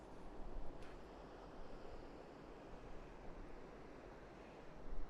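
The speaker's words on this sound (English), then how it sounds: "The River Tean is running down through here." The River Teign flowing through a Dartmoor valley in autumn: a steady, broad rushing of water heard from a distance, with some wind buffeting the microphone at the start and end.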